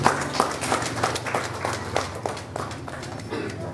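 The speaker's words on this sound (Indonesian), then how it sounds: "Kita sama-sama tepuk tangan." A wedding congregation claps together in a short round of applause, many hands at a moderate distance with an uneven rhythm, fading slightly toward the end.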